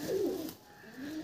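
A black-tailed pigeon in a loft gives a short, soft, low coo, close by and alone.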